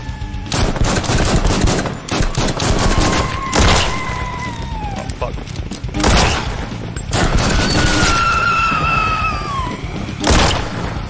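Pistol gunfire in the VR zombie game Zomday: loud bursts of rapid shots in clusters, with sharp cracks and booms repeating through the stretch, plus a few ringing tonal tails between volleys.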